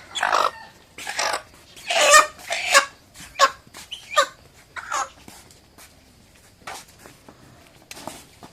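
A home-raised chicken clucks in a string of loud, close bursts, with scattered shuffling movement between calls and the sounds thinning toward the end.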